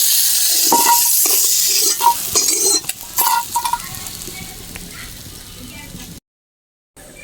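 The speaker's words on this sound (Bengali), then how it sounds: "কাঁকড়া খুব বেশি ভাজার দরকার নেই দু তিন মিনিট ভেজে নামিয়ে নেব" Crabs fry in a wok with turmeric and salt, a steady sizzle broken by scraping, clinking stirs of a utensil against the pan, then a brief silence at the end.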